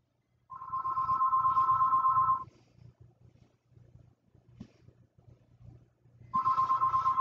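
Telephone ringing in a home kitchen during an abs-and-arms barre workout: two loud, steady electronic ring bursts, one at the start and another near the end, separated by a quiet stretch of faint background sound.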